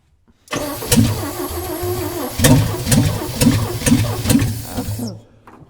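A 1965 Chevy rollback truck, its engine treated with Lucas additive, cranks in a rhythmic churn, catches and runs with rough, pulsing surges before settling, loud and close.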